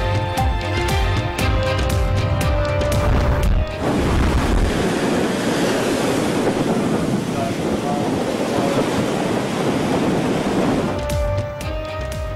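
Hurricane Irma's storm surf and wind roar as a loud, continuous wash of crashing waves and gusting air battering the coast. It lasts several seconds between short stretches of broadcast music.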